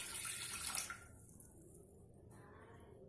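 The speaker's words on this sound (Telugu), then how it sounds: "ఆ 1 టీ స్పూన్ వాటర్ ఇందులో వేసుకోవాలి" Water poured into a heated bowl while making halwa gives a close, brief hissing splash for just under a second, then fades to a quiet, faint simmer.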